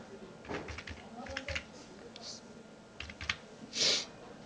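Short clusters of keystrokes on a computer keyboard as a traceroute command is typed, quiet and close, with a few separate key taps and one slightly louder press near the end.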